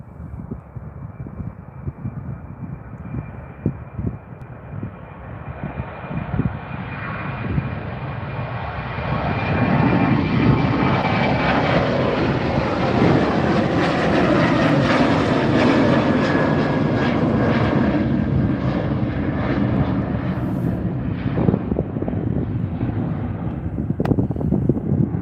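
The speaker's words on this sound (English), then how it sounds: "Here goes the WestJet new livery 737-700" WestJet Boeing 737-700 airliner at Calgary Airport runway 35R, its jet engines roaring and swelling from a distant rumble to a loud, sustained rush with a rising whine, heard outdoors with no voices.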